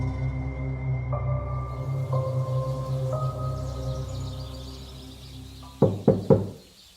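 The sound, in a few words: soft knocking on a bedroom door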